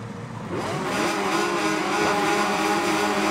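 500cc MotoGP bikes rev together on the grid at Laguna Seca in MotoGP 21, a loud, sustained multi-engine roar that climbs in pitch as the race starts, with no talking.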